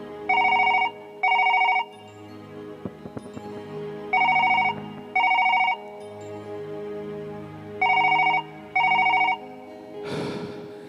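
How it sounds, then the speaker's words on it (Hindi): A telephone rings in three pairs of loud, bright electronic tones with short gaps between each burst, over a soft musical backing in a sad Chhattisgarhi song, ending in a brief rustling noise. "राम एक बार मैं फोन लगा के देखा था"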